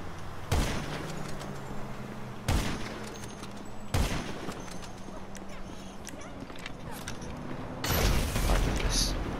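Gunfire in an online shooter match: four separate loud, sharp bursts of shots at uneven intervals, with the last one longer, over a steady background din.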